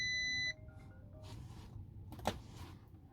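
A phone's electronic ring tone sounds steadily for about half a second, then stops, leaving quiet room noise and a faint click later.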